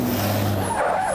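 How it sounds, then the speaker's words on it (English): A Porsche Boxster convertible sports car drives close by, its engine note shifting and its tyres squealing briefly in a short, loud pass. "This is a Porsche Boxster,"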